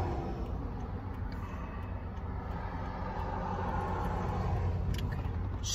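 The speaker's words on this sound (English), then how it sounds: "That's why the tires are spinning." A stick-shift car's engine roars low and steady as its tires spin, a loud continuous rumble heard from inside the car with no talking over it.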